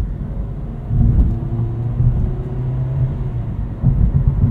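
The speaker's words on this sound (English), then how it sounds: "setting off in this Nissan Versa, we'll see a few simulated gear changes from the CVT" Nissan Versa SR pulling away from a stop, a steady low engine drone and road rumble inside the cabin with a few small surges as the CVT steps through simulated gear changes.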